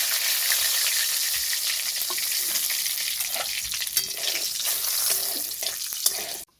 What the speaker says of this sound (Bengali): কড়াতে যে তেলটা আছে সেই তেলে আমি রান্না করব। দিয়ে দেবো দুটো শুকনো লঙ্কা, দুটো তেজপাতা, গোটা জিরে